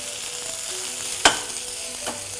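Mustard seeds, cumin, fenugreek, curry leaves, chilli and onions sizzle steadily in hot oil for a taro and fish curry, with a broad frying hiss, a sharp crackle midway and a few soft stirring clinks.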